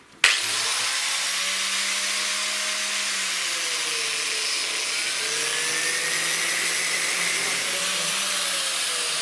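Angle grinder converted into a drive, spinning a wheel on a shaft through a nut welded to a tube, starts with a click and then whines steadily and loudly throughout.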